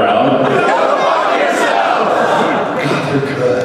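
An unruly convention crowd at MAGFest, a voice-actor panel event, shouts a loud group response in unison, a dense roar of many voices filling the room for several seconds.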